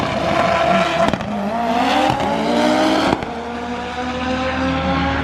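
Loud engine noise from cars at a Stancewars import car show in Idaho, with roaring, rising revs and a few sharp bursts, close and continuous without talk.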